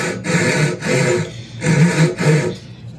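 A Japanese-style handsaw cuts through wood in steady back-and-forth strokes, about five rasping passes with short pauses between them, loud and close with no voices.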